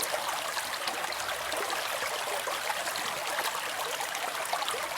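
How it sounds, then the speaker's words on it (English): Gamble Creek, a small creek beside a hiking trail in Rifle River Recreation Area, Michigan, flows with a steady bright rushing and trickling babble that fills the whole stretch, close and uninterrupted, with no voices. "there's a little creek back there, Gamble Creek."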